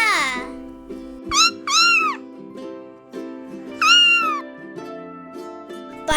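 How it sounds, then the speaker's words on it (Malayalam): A cat meows three times, a short opening cry followed by two longer rising-falling meows, clear and close against soft background music. "പൂച്ച"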